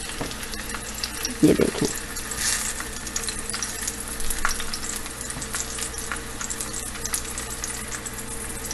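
Keema-stuffed karela fries gently in a pan with a steady low sizzle all the way through. A brief spoken phrase comes early, and soft crackles are scattered across the rest.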